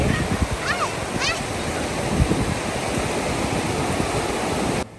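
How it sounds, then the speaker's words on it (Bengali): Sea waves wash onto a beach in a continuous, loud roar of surf with gusty wind buffeting the microphone, cutting off abruptly at the end. "আমার তো সমুদ্রের শব্দ ভীষণ ভালো লাগে"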